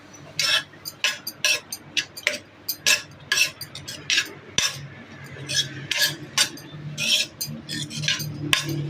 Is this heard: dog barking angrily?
no